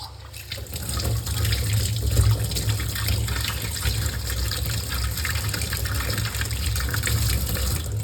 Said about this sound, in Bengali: এইভাবে একটা একটা করে সব মাছই ধুয়ে নেব।